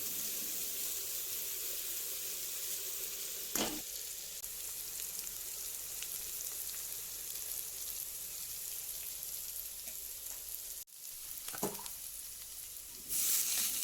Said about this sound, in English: I'll fry it till it becomes golden brown